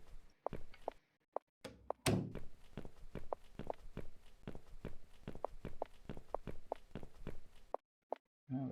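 Footsteps thud in a steady rhythm in the Downfall video game, preceded by a few isolated knocks and a louder door thump, then stop abruptly in near silence.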